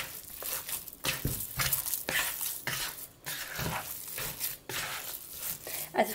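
Minced beef and pork mixed with spices and caraway in a bowl, giving steady squelching and stirring sounds with soft scraping, close and continuous, with no talk over it.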